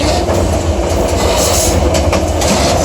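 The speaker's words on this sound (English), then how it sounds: "So this is a train." A train on a Myanmar railway runs between Golden Rock and Yangon Central, giving a loud, continuous close-up rumble of wheels on rusty metal rails with faint clickety-clack.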